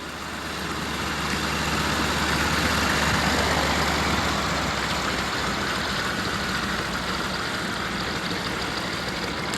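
A 600-horsepower piston engine on an agricultural aircraft roars in a steady, dense drone that holds constant and loud throughout, with no pauses or voices.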